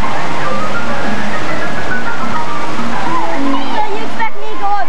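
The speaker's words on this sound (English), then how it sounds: "That water's coming down." Large bucket of water tipping and pouring down at a water park, a loud continuous splashing rush under excited voices and people talking, cutting off near the end.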